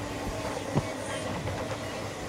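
From inside a moving train comes a steady rumble of carriages on the rails, with faint rhythmic clicks and a brief knock near the start.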